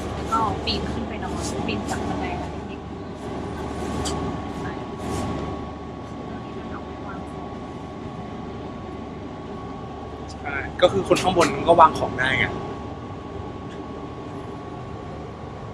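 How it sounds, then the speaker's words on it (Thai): Steady low rumble and hum inside a train carriage on the way to Khun Tan, Lampang, with a person speaking Thai over it and a brief burst of clattering near the middle. "อยู่บนรถไฟแล้ว"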